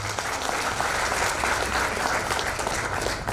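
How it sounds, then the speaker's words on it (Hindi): An audience at a book launch claps in a continuous, moderately loud round of applause lasting the whole few seconds, with no voices over it. "मैं कहता हूँ ज्योत्सना जी के लिए एक बार ताली जरूर हो जाते हैं"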